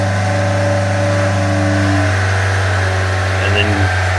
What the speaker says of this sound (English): Hear the engine sort of change note.